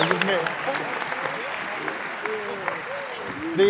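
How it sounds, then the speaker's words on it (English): Crowd applause at the 2017 Arctic Inspiration Prize awards ceremony fills the room, steady clapping from many hands while voices chatter and call out over it. "a big round of applause for the laureates"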